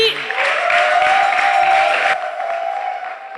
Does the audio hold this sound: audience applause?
yes